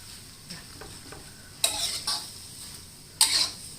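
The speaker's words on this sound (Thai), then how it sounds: "คนเลยค่ะ" Thin rice noodles stir-fried with vegetables and pork in a pan: a quiet background sizzle broken by two sharp, close bursts of scraping and tossing.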